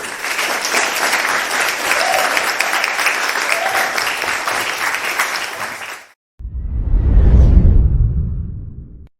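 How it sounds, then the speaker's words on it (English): Audience applause at a youth band Christmas concert for a talent contest winner, steady dense clapping from a crowd for about six seconds that cuts off abruptly, followed by a rising whooshing rumble. "A big round of applause, please, band, for our Band's Got Talent 2020 winner, Matthew"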